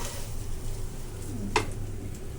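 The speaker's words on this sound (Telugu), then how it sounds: "ఇదంతా ఫ్రై అయిపోయే వరకు ఇలా ఫ్రై చేసుకుంటూ అప్పుడప్పుడు చూసుకుంటూ ఫ్రై చేసుకోవాలి దీన్ని." Raw prawns frying with gongura in a pan, a steady close sizzle with one brief sharp clink of a utensil near the end.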